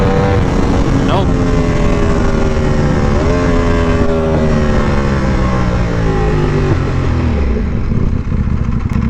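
A Ducati V4R motorcycle engine idles roughly and loudly up close, its steady drone wavering in pitch with an uneven misfire, while someone talks over it.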